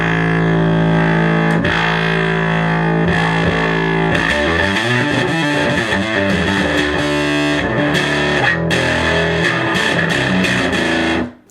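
An Acoustic 450 solid-state amplifier in lead mode with the bright switch on and flat EQ, playing a harsh, buzzy distorted guitar, loud and continuous with shifting chords and sustained notes, then cutting off at the end.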